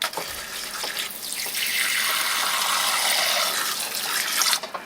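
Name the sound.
water filling small containers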